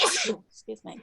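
A single sharp sneeze bursts out close up, immediately followed by a voice speaking briefly.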